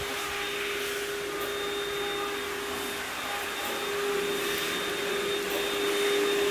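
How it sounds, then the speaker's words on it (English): A vacuum cleaner removes dead hair while tile and grout are cleaned nearby, a loud steady whine and whoosh with a faint pitch shift partway through. "We are used to vacuum. Therefore, we prefer to vacuum to remove all the dead hair."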